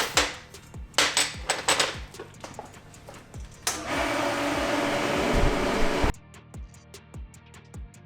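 Metal flange corners hammered into shape for a triple-turbo Honda's turbo manifold: sharp, close metallic strikes in irregular bursts, broken midway by a few seconds of steady broadband whirring.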